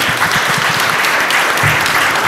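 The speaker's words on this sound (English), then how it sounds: "a round of applause" Applause from a panel audience at a climate security event in Nairobi, a steady, dense round of clapping that carries through the whole stretch without any voices on top.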